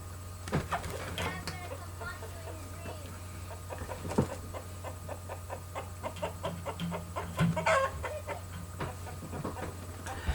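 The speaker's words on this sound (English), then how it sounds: "Y'all hear the chicken in the background?" Chickens on a homestead cluck steadily in the background, with short repeated clucks running under a person talking, along with a constant low hum.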